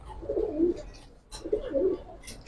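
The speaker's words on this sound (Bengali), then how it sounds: "পুতুল কবুতর।" Pigeons kept as fancy breeding birds give two soft, low coos about a second apart, close by and fairly quiet, with faint background rustle and no talking.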